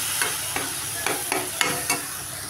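Eggplant is stirred into a spice mixture in a pan over a steady sizzle, with about six soft, evenly spaced scraping strokes, close and moderately loud.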